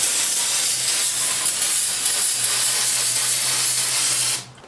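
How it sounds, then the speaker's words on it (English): Non-chlorinated AutoZone brake cleaner sprayed onto an engine block in a continuous loud, close, broadband hiss lasting about four seconds, then cutting off abruptly. "gonna use AutoZone brake clean."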